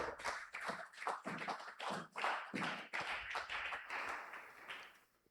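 A church congregation at a French-language prayer service claps and cheers loudly, with dense rhythmic applause and shouts sustained throughout.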